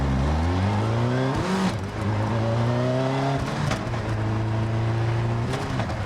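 A car powered by a Suzuki Hayabusa motorbike engine runs close by, its high-pitched engine note rising and falling through gear changes with a sharp rev blip, loud and sustained with no talk.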